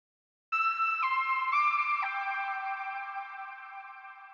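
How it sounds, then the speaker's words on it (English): A clean synth lead from a friendly lead preset steps through a few sustained notes with an echoing tail, then holds and slowly fades, alone without voices. "So I just have this friendly lead right here."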